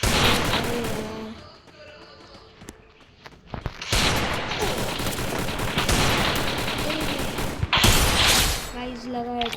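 Rapid gunfire from a shooting video game, with dense bursts of automatic shots near the start and again through the second half, a quieter lull between, and a player's voice talking over the action.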